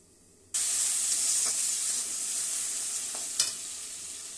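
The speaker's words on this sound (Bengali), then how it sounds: "গোয়াল মাছটা বসাচ্ছি জিরে ফোড়ন দিলাম" Goyal fish frying in a pan of oil tempered with cumin, a steady loud sizzle that bursts in abruptly and holds, with a few brief stirring scrapes and a sharper crackle near the end.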